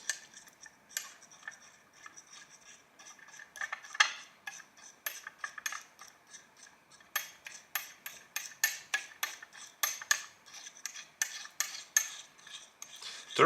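Urushi lacquer is mixed with turpentine using a tool on a hard surface, producing a steady run of quick, close ticking taps and scrapes that grow more rapid toward the end, with no talking.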